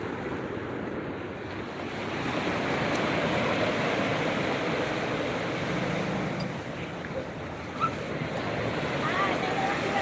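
Steady roar of ocean surf breaking at Pantai Wisata Kutang beach in Pidie Jaya, Aceh, a continuous broad wash of waves with some wind rumble, near and fairly loud throughout.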